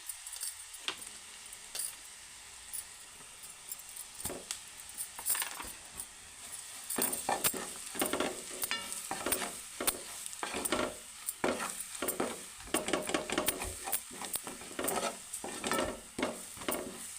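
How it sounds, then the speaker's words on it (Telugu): Ground garlic and chili paste frying in a pan for an egg curry, a continuous sizzle broken by frequent sharp spatula scrapes and metallic clinks that grow busier and louder after the first few seconds. "వెల్లుల్లి కారం మిక్సీ పట్టుకున్నది అయితే వేయించుకుందాం ఇందులోనే"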